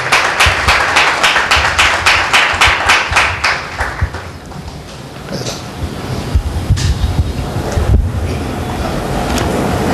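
Loud burst of applause from a church congregation welcoming a visiting preacher at a meeting, dense clapping at first that thins and fades into a noisy, rumbling room.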